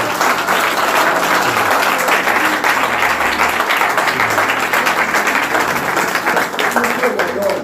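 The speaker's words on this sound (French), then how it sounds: "Applaudissez pour le Seigneur." A church congregation breaks into loud, steady applause during a prophetic service. The clapping is continuous and close throughout, with voices mixed into the crowd noise.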